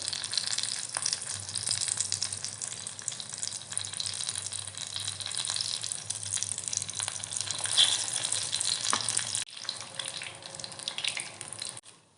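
Chili fritters (mirchi vada) deep-fry in a pan of oil, giving a dense, continuous sizzle and bubbling at close range that runs steadily and drops away sharply near the end; no speech.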